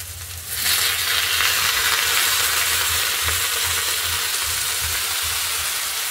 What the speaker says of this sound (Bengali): টমেটোটা ভাজা ভাজা হয়ে যাবে এর সাথে।